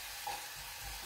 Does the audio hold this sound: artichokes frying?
yes